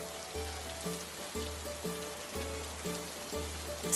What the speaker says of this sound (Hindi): बाहर पानी की आवाज कितनी भयानक आ रही है ना।